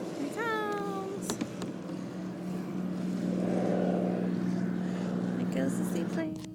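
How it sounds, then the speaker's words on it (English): A seaplane takes off over Lake Union and passes overhead, its propeller engine building into a broad, steady drone that swells toward the middle and then fades, while a kayaker talks nearby. "There goes the seaplane."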